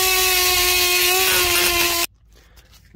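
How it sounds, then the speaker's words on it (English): A battery-powered Dremel rotary multi-tool fitted with a wire brush whines close by in a steady high-pitched tone for about two seconds, then stops abruptly, leaving quiet room noise. "my battery-powered Dremel. That'll work out pretty well with a wire brush"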